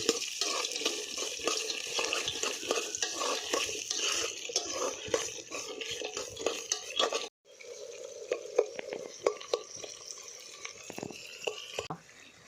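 Onions fry in a pan and are stirred repeatedly until golden, with a steady sizzle broken by clinking spoon scrapes. There is a brief pause partway through, then the stirring resumes, and no one speaks.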